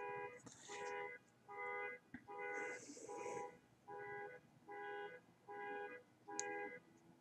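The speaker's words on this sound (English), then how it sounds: "That was somebody's car alarm going off." A car alarm going off somewhere outside, sounding as a repeating electronic beeping tone in about six steady bursts of equal length with short gaps between them, distant and fairly faint.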